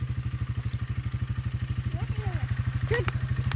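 A motorcycle engine chugs close by in a fast, steady rhythmic putter, rising slightly in revs toward the end, with brief shouts over it.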